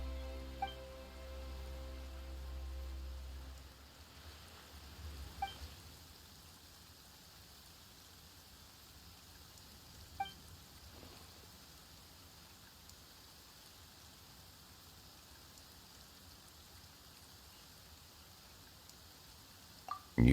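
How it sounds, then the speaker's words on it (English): Soft, steady rain hiss runs throughout, fairly faint and even, with a low tone fading early and a few isolated ticks. "Why is it raining all of a sudden?"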